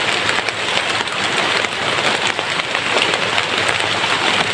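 Steady, heavy rain falls close by in a continuous dense hiss of drops striking surfaces, with no talking.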